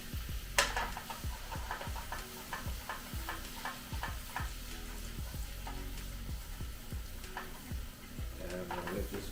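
Minced onions cook in a spicy seafood butter sauce while being stirred, giving a steady close sizzle broken by regular, rhythmic scraping strokes of the spoon against the pan.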